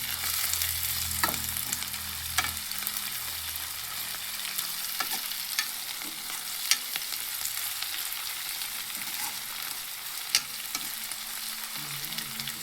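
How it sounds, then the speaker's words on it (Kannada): Coriander fries in oil for a Muslim-style dal fry, a continuous crackling sizzle with occasional sharp utensil taps and stirring scrapes throughout. "ನೋಡಿ, ಇದು ಕೂಡ ಎಣ್ಣೆಗೆ ಫ್ರೈ ಆಗಬೇಕು"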